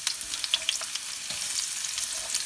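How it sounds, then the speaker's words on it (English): Chopped onions frying in hot oil for a chicken tikka masala, a steady crackling sizzle with small spits and pops throughout, close and moderately loud. "the oil's nice and hot, so first and foremost we're going to add the onions in"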